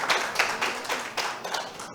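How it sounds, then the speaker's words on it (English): An audience claps in quick, steady applause at a welcome session of the COP27 Resilience Hub, close and fairly loud, with no voices over it. "I think that deserves a round of applause."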